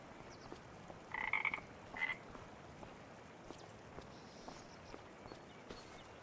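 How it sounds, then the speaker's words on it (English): A frog in Farming Simulator 25 gives two short croaks near the start, faint against a quiet hissing outdoor ambience with light footstep-like ticks. "I can hear a frog"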